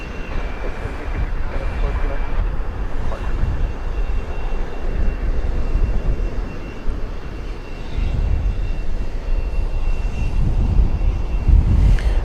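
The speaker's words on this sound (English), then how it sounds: "It appeared to be a buttery landing." An airplane lands at DFW airport: a steady, broad engine roar that holds throughout and swells slightly toward the end, with no talking over it.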